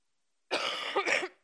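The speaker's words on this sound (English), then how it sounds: "Sorry, I have a cough." A single short cough, close and fairly loud, with a brief rough second push at the end.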